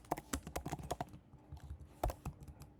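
Rapid clacking of computer keyboard keys, close and fairly quiet, with irregular bursts of keystrokes and short pauses between them.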